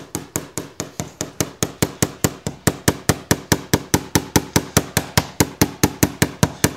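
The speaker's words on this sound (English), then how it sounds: "Just like this, little aluminum hammer." A small aluminum hammer taps out a dent in an Airstream trailer's aluminum skin, striking in a fast, even series of sharp, close metallic knocks, about four per second, with no talk.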